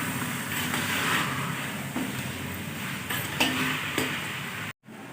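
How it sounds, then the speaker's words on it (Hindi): Beef sizzles and fries loudly in a pan with garlic and ginger, a dense continuous hiss broken by a few scraping stirs, then a brief cut to silence. "अब जी डालते हैं बीफ, और बीफ को अच्छी तरह से फ्राई कर लेंगे"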